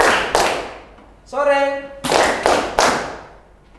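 Classroom group clapping in short bursts, several sharp rounds of hand claps separated by a brief sung or spoken tone, with a teacher's voice around them.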